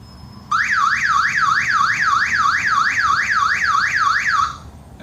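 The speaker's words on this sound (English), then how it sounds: "That's my doorbell, you'll have to forgive it." A doorbell sounds as an electronic warbling tone that rises and falls rapidly and steadily for about four seconds, loud and close, then cuts off.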